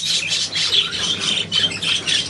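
A pet budgerigar squawks and chatters in rapid, shrill bursts close to the microphone, repeating continuously with brief gaps and no talk over it.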